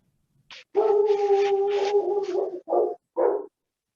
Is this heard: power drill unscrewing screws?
no